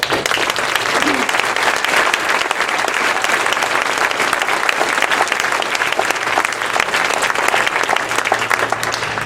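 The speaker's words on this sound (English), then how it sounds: "I'd like to ask you to give a round of applause to people who have stood up for our country." A large audience claps continuously and loudly, a dense unbroken wash of applause lasting throughout with no pauses.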